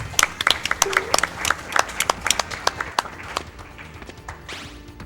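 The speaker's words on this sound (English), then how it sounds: "Applause!" Scattered clapping from a small crowd at a live video game speedrun event, sharp uneven claps over a low background, with a brief synthesized game sound near the end.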